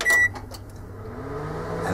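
A microwave oven's loud start beep, then a steady low electric hum of it running, alone and close by.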